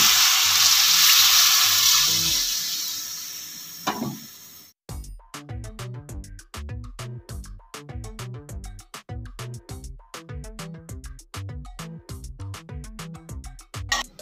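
Egg bhurji curry gravy in a pan: a loud hissing sizzle first, then the thickened sauce boils with steady, rapid bubbling pops and plops close up.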